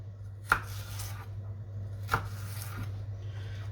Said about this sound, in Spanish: Ahora vamos a cortar también el apio a daditos pequeños.